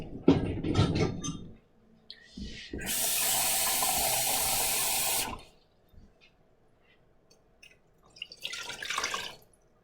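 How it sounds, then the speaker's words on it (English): A cup of water is poured into a cooking pan while Belizean cochinita pibil is prepared, a steady, hissing splash lasting a few seconds at close range, followed by quieter kitchen handling and brief talk before and after. "Add a cup of water."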